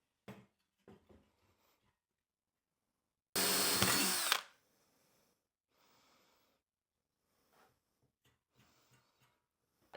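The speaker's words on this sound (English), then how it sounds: "I'm gonna take a drill a few holes" A single loud burst of a power drill spinning for about a second, surrounded by quiet handling noises and soft breaths, during air-conditioning repair on a Hitachi EX100-5 excavator.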